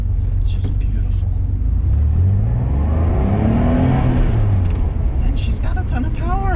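A classic Porsche 911 SC engine drones and revs steadily while the car is driven, with a continuous low rumble under someone talking throughout.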